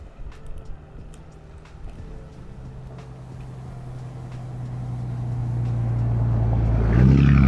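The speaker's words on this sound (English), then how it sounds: "There's a car coming behind me" A car approaches from behind on a road, its engine rumble swelling steadily from faint to loud and close by the end, under the whine of a DJI Air 3 drone being flown at full throttle.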